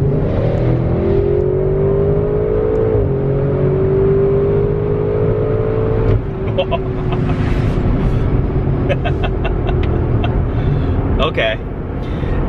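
A 2021 Audi RS6 Avant with a ZF automatic transmission accelerates hard onto a freeway, its engine droning loudly from inside the cabin and rising in pitch, with quick gear shifts breaking the climb.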